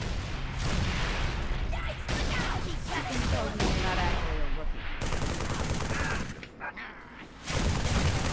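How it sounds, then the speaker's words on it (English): A turret pins troopers near a watchtower in Halo 3 ODST, loud rapid bursts of heavy gunfire with booming impacts, sustained for several seconds with a brief lull near the end. "Don't let that damn turret fire one more round!"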